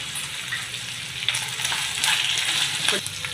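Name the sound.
onions and drumsticks frying in pan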